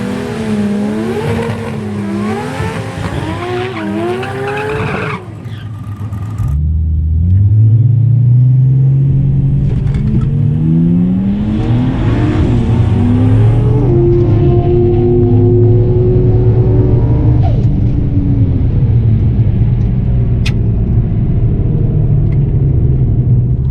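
Boosted Ford Falcon drag cars launching off the start line at Mildura's eighth-mile Sunset Strip, a loud engine rumble swelling into sustained high revs and roaring acceleration that holds close and steady for most of the stretch.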